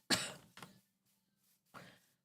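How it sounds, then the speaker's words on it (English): Three short, harsh coughs close to the microphone: one strong burst, a smaller one right after, then a third after a pause, with near silence between them. "It's just the coughing more than anything."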